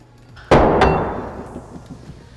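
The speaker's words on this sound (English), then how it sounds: "5 pound. Nothing. I'll kind of drop it at an angle too so it's not flat." A 5-pound bare metal weight plate dropped at an angle onto an epoxy-coated floor gives a sharp, loud clanging impact with a quick second bounce, then a ringing decay that fades over about two seconds.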